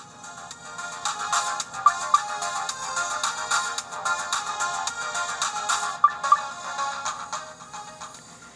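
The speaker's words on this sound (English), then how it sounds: "Oh, I guess there's background menu music." Background menu music from a Hyper Mega Tech Super Pocket handheld game console, a bright, steady electronic tune with chiming notes, played alone at moderate level.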